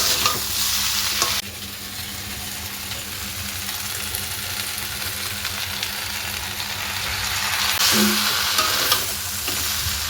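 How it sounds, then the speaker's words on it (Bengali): Malabar spinach (pui shak) fries in a pan with a steady, close sizzle and the scrape of stirring throughout, the hiss swelling slightly toward the end; no one talks. "পুঁই শাকটা ভালো করে ভেজে পড়লে সুন্দর টেস্ট হয়।"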